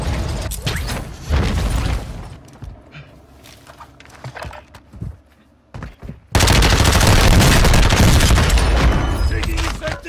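Gunfire in Call of Duty: Warzone 2 during a mini royale duos match, with loud, close bursts and mechanical clatter, quieter gaps, then a dense, sustained roar of shooting and noise near the end.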